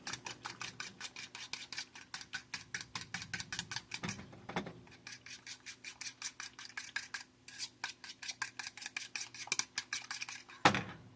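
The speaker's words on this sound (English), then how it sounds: "Beat your eggs up." Eggs beaten in a bowl for banana bread, a fast steady rhythm of sharp utensil clicks against the bowl, close and crisp, pausing briefly midway and ending with a heavier knock.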